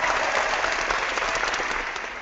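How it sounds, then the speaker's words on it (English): Dense, steady clapping from a studio audience at the opening of a quiz show, loud and continuous before easing slightly at the end. "Because I'm going to clap."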